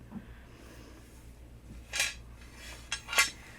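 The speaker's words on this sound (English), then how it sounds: "you see me dip down here to grab this pot" A metal pressure canner pot is lifted, giving two or three short metallic clanks and rattles near the end, close by, after a quiet stretch of low room noise.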